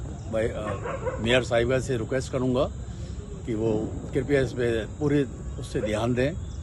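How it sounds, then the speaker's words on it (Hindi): Dogs bark and yip repeatedly in a park at night, sharp close bursts in quick clusters, heard under someone speaking in Hindi throughout. "कुत्ते भौंक रहे हैं"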